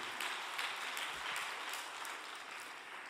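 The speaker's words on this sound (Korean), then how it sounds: "간증해 주신 세 분께 감사의 박수를 부탁드리겠습니다." A congregation at a religious retreat applauds three testimony speakers in thanks, an even wash of hand claps from a large hall sustained throughout at moderate volume.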